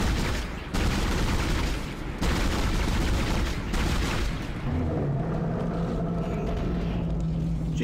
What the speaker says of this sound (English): Get the machine gun out.